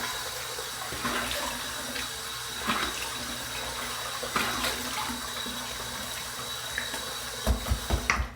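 Water runs steadily from a bathroom tap as a face is wetted before a shave with a Schick Injector razor, with a few splashes and quick pats near the end.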